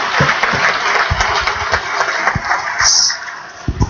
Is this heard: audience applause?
yes